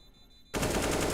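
Sustained burst of automatic AK rifle fire in a Counter-Strike match, starting abruptly after a quiet moment and staying loud and dense to the end.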